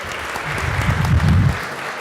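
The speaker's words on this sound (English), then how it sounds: "Let's give them a round of applause." A crowd at Baldwin Park's State of the City event applauds the police, a broad steady burst of clapping with a low rumble of voices swelling in the middle.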